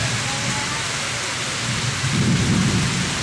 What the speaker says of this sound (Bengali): বৃষ্টির সাথে বজ্রপাতও হচ্ছে।